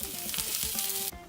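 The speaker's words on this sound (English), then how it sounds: "Listen to that sizzle." An egg fries in a pan for a Jersey-style pork roll, egg and cheese sandwich, giving a steady, close crackling sizzle with small bright pops, and no voices heard.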